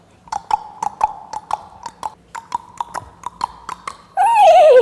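Horse hooves clip-clopping at a steady, even walk as a prince rides through a forest, about a dozen crisp close hoofbeats, followed by a loud wavering neigh at the end.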